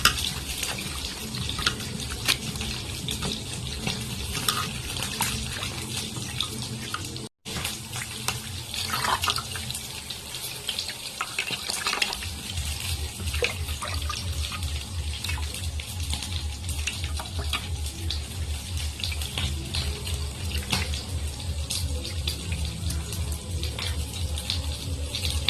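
Tap water runs steadily into a sink while leafy greens are washed by hand. A brief pause comes early, then heavier splashing and a rhythmic churning of water follow.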